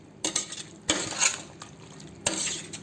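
A spoon clinks and scrapes around a pot of banana stem kurma, several sharp metallic knocks in an uneven rhythm over a faint wet simmer.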